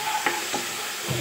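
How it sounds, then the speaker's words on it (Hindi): Spices frying in a pan with a little water for moong dal, stirred with a spoon: a steady close sizzle with a few scraping strokes, no talking. "चलिए, मसाले को हम अच्छी तरह से भून लेते हैं।"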